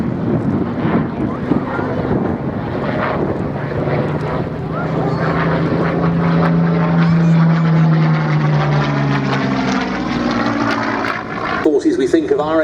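A Merlin-engined Curtiss P-40F fighter runs in and flies past at an air show, a loud droning engine roar that swells and shifts pitch as it passes, overlaid with wind buffeting on the microphone and a commentator's voice throughout.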